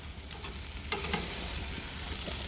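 Burger patty frying on a hot cooking surface with a steady, close sizzle and faint scraping, alone with no voices.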